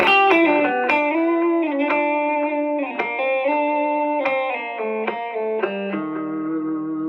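A clean electric guitar plays a melodic line of picked notes and chords, bright and sustained, alone with no voices.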